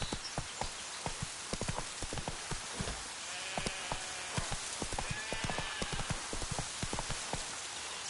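A horse in The Witcher 3 trots along with rapid, rhythmic clip-clop hoofbeats, close and crisp, over a constant hiss of rain.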